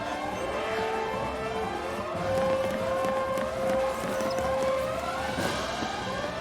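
In the Final Fantasy XIII video game, an alarm siren wails in repeated rising and falling sweeps at a steady, moderate level, with faint game sounds beneath.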